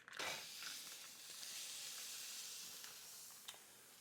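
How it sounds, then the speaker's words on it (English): Ground beef browning in a pan for bean-free chili gives a steady, fairly quiet sizzling hiss with faint crackles, holding evenly for a few seconds with no talking. "While our ground beef is browning"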